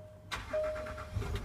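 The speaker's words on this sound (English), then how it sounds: "I'm just going to start the car," Land Rover Discovery 4 HSE engine starting: a quiet pause, then the starter cranks and the engine catches into a low steady idle nearby, with no speech.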